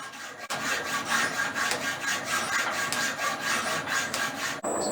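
Metal shaper skimming the top surface of a bright mild steel workpiece, a continuous raspy scraping that pulses in a steady rhythm for several seconds, then stops abruptly.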